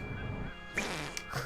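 Cartoonish fart noises in the video game Battle Block Theater: short buzzy, pitched sputters, one louder burst followed by a few quicker blips, fairly quiet and heard without speech.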